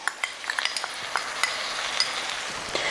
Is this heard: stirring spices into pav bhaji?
yes